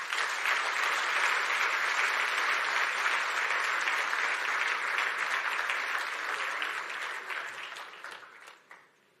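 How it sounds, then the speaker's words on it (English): A large audience at an EU-Kenya business forum in Nairobi gives a speaker a full round of applause, steady dense clapping that carries on for several seconds before tapering off. "A round of applause for Waziri Moses Kuria"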